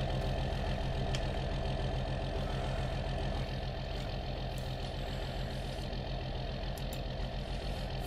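Tractor engine in Farming Simulator running at a steady, loud, continuous drone with a mid-pitched hum and no breaks.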